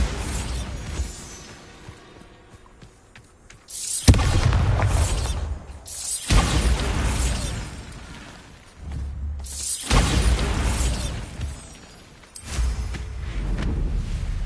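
Bombarda spell blasts go off in Hogwarts Legacy, several loud booming bursts with crashing debris separated by quieter gaps.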